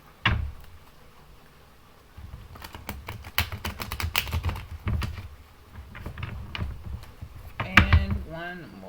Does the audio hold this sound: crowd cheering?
no